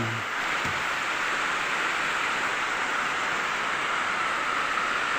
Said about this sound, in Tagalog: umuulan dito sa bintana